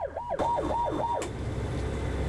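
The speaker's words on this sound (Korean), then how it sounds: "해양경찰관이 사이렌을 울리더니 깃발을 흔들며 인근 어선을 멈춰 세웁니다" A Korean coast guard officer sounds the siren aboard an 18.5-ton coastal rescue boat during a drunk-boating patrol: a loud, close electronic wail that rises and falls about four times, then cuts off into steady engine and water rumble.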